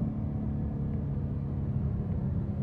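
A car running on E85 fuel pulls hard at partial throttle, a steady deep engine drone and road rumble heard from inside the cabin, loud and continuous with no talk.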